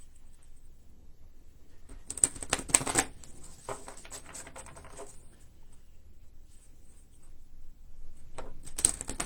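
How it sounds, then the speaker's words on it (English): Brief riffles of cards being shuffled, close and fairly soft, in a few short bursts separated by quiet gaps. "we got our 3 shuffles done"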